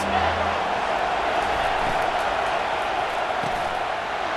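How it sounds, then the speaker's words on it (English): A stadium crowd in EA Sports College Football 25 roars in a dense, steady wall of loud cheering on third down, sustained without break throughout. "Third down, and this crowd is tearing the lid off this place."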